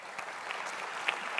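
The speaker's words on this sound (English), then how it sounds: "round of applause for our teams here" Audience applause at the close of an ophthalmology continuing-education session on refractive IOL patient satisfaction, a steady wash of many hands clapping at moderate level throughout, with no one talking over it.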